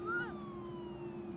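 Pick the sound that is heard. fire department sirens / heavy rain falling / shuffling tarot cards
fire department sirens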